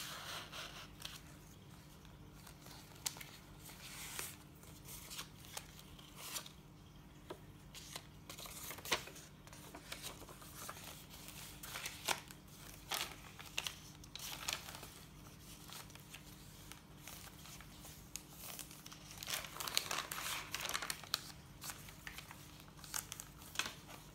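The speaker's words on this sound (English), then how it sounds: "A little bit of turquoise and white stripe washi tape." Turquoise and white stripe washi tape handled and torn while making a junk journal: faint, steady crinkling and rustling with scattered soft tearing and rubbing, quiet and close, with no talking.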